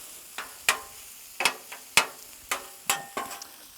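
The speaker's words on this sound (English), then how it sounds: "Sausage cooking up nicely in the corner." Sausage sizzles on a hot Blackstone griddle while a spatula scrapes and taps the steel, producing sharp, close metallic clacks every half second or so over a steady frying hiss.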